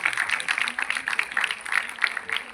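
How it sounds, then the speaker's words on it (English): An audience at the Beyond the Barriers 2024 event applauds in a dense, continuous patter of many clapping hands, steady and fairly close throughout with no pause. "a huge round of applause for our everyday heroes that you never get to see on stage"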